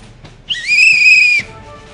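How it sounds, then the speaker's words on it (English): An employee training whistle blown once, a loud, steady, shrill tone lasting just under a second, standing clearly above a quiet room. "This is my new employee training whistle."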